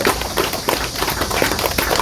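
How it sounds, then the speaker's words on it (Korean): Audience applause at an outdoor statue unveiling ceremony at a war memorial hall in Chilgok, dense steady clapping from a crowd throughout, no talk. "이 세 분에게 박수 한번 쳐주세요"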